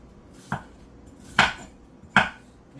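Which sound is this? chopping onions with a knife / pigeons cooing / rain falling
chopping onions with a knife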